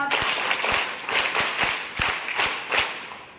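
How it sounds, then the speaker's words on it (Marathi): Applause from a group of school students at an ashram school event, a steady burst of many hands clapping close by for a few seconds before tapering off. "तर ग्रुप क्रमांक 2 साठी देखील टाळ्या वाजवूया."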